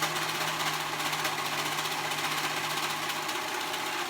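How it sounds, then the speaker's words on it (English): A serger hums and rattles in a rapid, steady mechanical rhythm, running continuously up close with no talking. "I am using my serger today."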